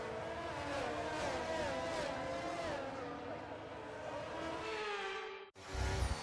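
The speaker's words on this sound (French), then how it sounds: "les pilotes partent pour le tour de formation" Formula One single-seaters roaring off at Monza for the formation lap, a dense, loud engine wail with shifting pitches from several cars sustained for over five seconds, then a sudden cut followed by a low rumble.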